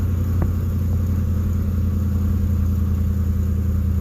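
A car driving through busy traffic, heard from inside the cabin as a steady, close low engine and road rumble with no talk.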